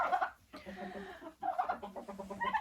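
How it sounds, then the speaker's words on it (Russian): Young roosters and turkeys in a farm pen give a run of close clucks, squawks and gobbling calls, overlapping in bursts with a brief lull partway through. "Индюки с петушками."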